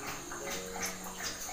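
Coconut water from a freshly cracked coconut is poured in a soft, steady, faint trickle lasting about a second and a half, with no voices.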